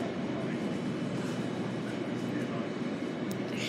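A train pulling out from platform 4 at Sydenham, a steady broadband rumble and rolling hiss up close, continuous without breaks, with a faint high squeal near the end.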